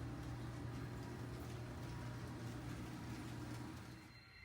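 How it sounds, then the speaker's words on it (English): An HO scale model freight train rolls off a layout lift onto the first level, giving a steady low electric motor hum with a faint rumble that holds constant, then fades slightly at the end. "now going to take the train off and onto the first level"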